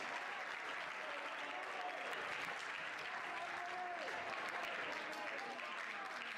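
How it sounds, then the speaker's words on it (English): Sustained applause from a crowd at a Public Schools Association school athletics carnival, honouring students from Scotch College and Aquinas; steady, dense clapping runs throughout at an even level with faint crowd voices mixed in. "Big round of applause for both of our students here, Scotch College and Aquinas."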